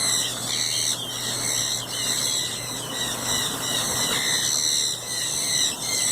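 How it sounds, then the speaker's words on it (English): Many birds call at once inside the Costa Maya aviary, a dense, loud chorus of high chirps and shrieks layered continuously throughout. "I'm going to pause a minute and let you listen to what it sounds like in there"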